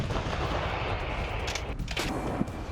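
An M-777 ultra-light howitzer fires, heavy booming blasts with rumbling low echoes rolling across open ground, loud and sustained, with a few sharper reports layered through the din.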